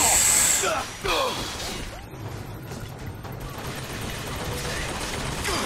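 Gunfire from an automated turret in the video game BioShock Infinite, a burst of sharp shots and crashing impacts that fades into hissing mechanical noise, with a person talking under it.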